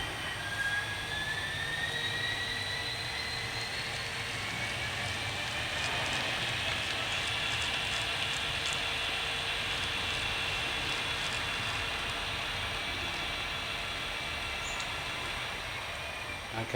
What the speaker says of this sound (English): Just thought I'd show you the loco coming out of the engine shed.